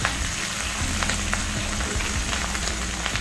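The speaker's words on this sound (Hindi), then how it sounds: "इसको हाई हीट में सॉटे करती हूँ।" Capsicum and cabbage sauté on high heat in a pan, a dense steady sizzle and crackle of frying vegetables with faint stirring, continuous and close for a few seconds with no voices.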